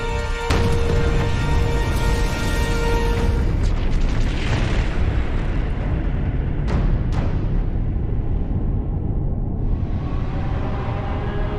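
Chernobyl unit 4 reactor explosion in documentary footage: a sustained, loud, dense roar and rumble with a few sharp cracks midway, continuous throughout with no speech.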